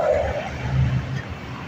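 A lorry on the apron at Dublin Airport pulls away with a brief low engine rumble rising under outdoor noise.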